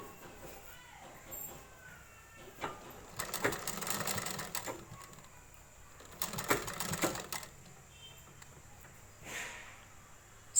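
A sewing machine stitching a petticoat runs in two loud bursts of a few seconds each, with quieter handling sounds and a brief whir between them.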